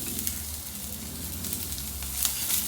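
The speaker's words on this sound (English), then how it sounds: "now we're gonna stir fry the vegetables" Garlic and ginger stir frying in olive oil in a hot pan, a steady close sizzle with crackling pops and occasional scraping stirs.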